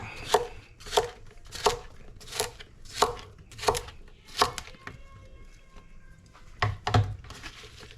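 A knife rough-chops an onion on a cutting board, about nine crisp, evenly spaced thuds in a steady rhythm, close and clear, with a brief pause and a couple of final cuts.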